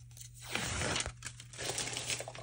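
Adhesive backing peeled off die-cut paper pieces, a close, crackly tearing and crinkling that runs continuously for a couple of seconds without talk.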